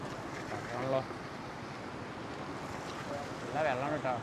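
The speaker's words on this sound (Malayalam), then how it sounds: "കുത്തി ഒലിക്കുന്ന വെള്ളം നമുക്ക് ഇങ്ങോട്ട് കയറാൻ പറ്റുമോ?" Gushing river water rushes in a steady broadband roar close by, with wind buffeting the microphone and a couple of brief voice sounds rising above it.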